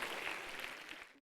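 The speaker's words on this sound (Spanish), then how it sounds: "Un aplauso al Señor, un aplauso al Señor" Congregation applauding at an evangelical church service, a dense steady clatter of many hands for about a second before cutting off abruptly.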